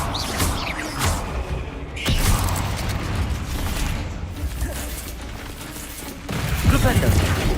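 Repeated Bombarda blasting spells in Hogwarts Legacy, heavy booming impacts with clattering, mechanical debris over dense combat noise, several strong hits spread across the stretch, loud and close.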